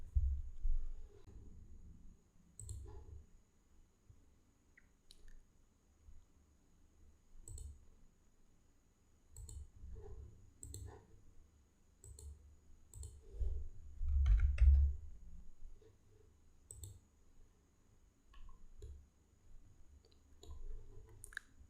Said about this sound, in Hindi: इसलिए बस यहीं से ऐसे क्लिक कर लेंगे